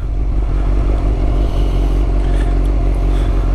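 A 2005 Suzuki GSX-R1000 K5 sport bike is ridden on the road, its engine a steady, loud, low drone mixed with wind rush, holding an even pitch throughout with no voices over it.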